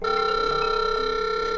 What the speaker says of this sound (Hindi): सुनाई दे रहा है ना रिंगटोन ये मेरे वॉच के थ्रू आपको सुनाई दे रहा है